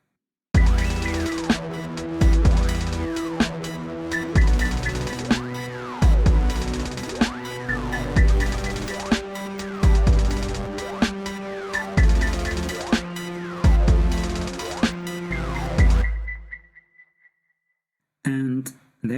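Dark electronic synthesizer track shaped with modulation, with rhythmic pulsing chords, a steady bass and bright high melodic accents, loud and continuous until it fades out near the end, followed by a brief burst of sound.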